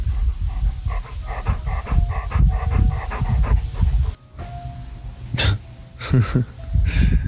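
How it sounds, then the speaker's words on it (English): A dog pants rapidly and rhythmically close by, with a few sniffs and snorts toward the end. "can you hear my dog breathing?"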